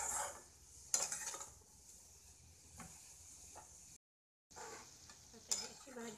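Kardai bhaji stir-fried in a pan, with intermittent scraping and clinking of a spatula against the pan over a light sizzle, close but quiet, briefly cut to silence midway.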